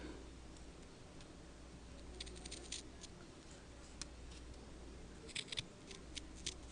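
Scissors snipping through fabric while cutting out a small piece for a custom cape, heard as faint, sparse clicks and snips over a quiet room hiss.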